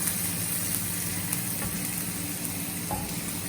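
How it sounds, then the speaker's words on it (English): Stuffed okra masala sautéing and being stirred in a pan, a steady, close sizzle and frying crackle running without pause through the whole stretch, with no voices. "And stir. Saute this a little bit."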